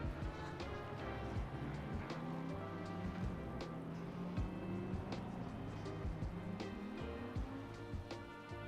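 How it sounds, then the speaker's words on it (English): Rain falling at the Suzuka circuit in a Formula One racing video game, a steady soft patter with scattered drops over a low engine-like drone, with no one talking. "It's raining tonight, did you guys know that?"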